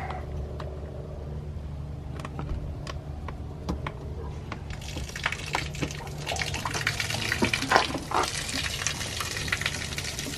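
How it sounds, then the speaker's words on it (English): Water drains from the fresh water tank of an RV being winterized, a low steady hum at first, then a gushing, splashing rush with bubbling and irregular spatters that grows louder midway. "Something else you don't want to forget is to drain your fresh water tank."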